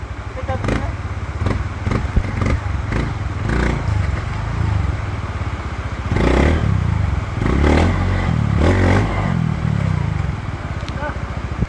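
A motorcycle engine rumbles steadily on a trail for the whole stretch, with bursts of revving and clattering over rough ground, while voices talk over it.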